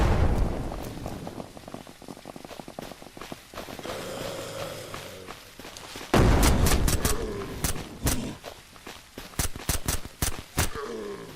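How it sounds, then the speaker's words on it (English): Frag grenade detonating in the zombie survival game SurrounDead, a sudden heavy boom after a stretch of rumbling ambience, followed by a rapid string of sharp gunshot-like cracks and impacts. "So if I just chuck a grenade here, and then combat roll off the side and run away."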